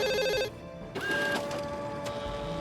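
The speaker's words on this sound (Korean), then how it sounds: "또다시 복사기가 요란하게 돌아가기 시작했어" A photocopier whirs loudly in a horror audio drama, its mechanical clatter and rhythmic beeping tones building steadily over a constant hum, close and without any voices.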